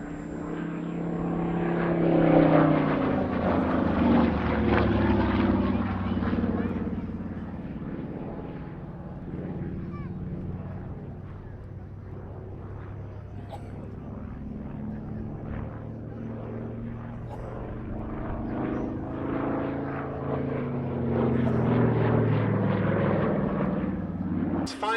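A SAAB B17 propeller bomber at an airshow passes by with a broad, droning engine roar that swells, eases in the middle and builds again, with speech heard alongside.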